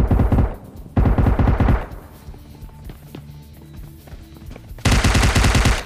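Automatic gunfire from the mobile game PUBG Mobile comes in loud, rapid bursts, one at the start, another after a second, and a final long burst near the end, with quieter game sounds between.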